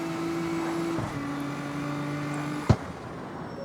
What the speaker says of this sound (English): A massive amount of boost. You just hear it go, start whooshing up.